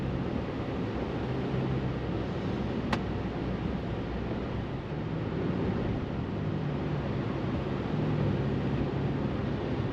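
Faint steady road noise inside a quiet Chevrolet Silverado with the 3.0 LZ0 Duramax diesel, a soft broadband hiss and low rumble while driving, the engine itself barely audible.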